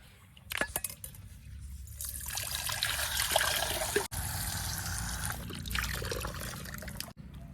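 Water pours steadily into a cooking pot for plain Maggi noodles in a village kitchen, a continuous close trickling stream that runs for several seconds with a brief break midway.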